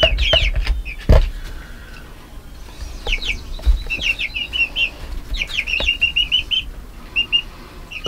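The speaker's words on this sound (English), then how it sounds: "The white ones are Brahmas, and the black ones are Jersey Giants." Brahma and Jersey Giant hens cluck and chatter close by in short bursts, with occasional thumps and wing flaps.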